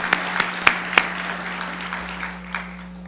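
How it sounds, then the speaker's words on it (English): A handful of sharp claps lead into light, scattered applause from an audience at a school district MLK tribute event, fading quickly under a steady hum. "Please join me in applauding my fellow trustees."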